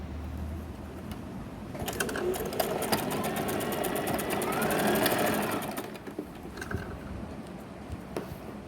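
A sewing machine stitches the top inner seam of a fabric chair cover, its rapid mechanical whirr running steadily for most of the stretch, loud and close, then easing near the end.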